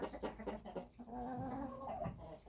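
Chickens and roosters cluck and call close by, a busy mix of short clucks and a drawn-out crowing note.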